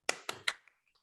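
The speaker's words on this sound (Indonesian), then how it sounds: "bisa bantu diberikan tepuk tangan yang meriah lagi untuk narasumber kita" Three sharp claps from a webinar audience for a guest speaker, fairly close and quiet, followed by faint trailing taps, no talk.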